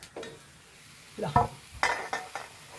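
Tender young leaves stirred as they fry in raw coconut oil, heard as a few separate scraping strokes and soft sizzles against a quiet background, each stroke brief and moderately close.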